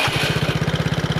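A motorcycle with a modified aftermarket exhaust pipe is started and idles at a roadside check, giving a loud, close, rapid pulsing engine beat with an even rhythm throughout.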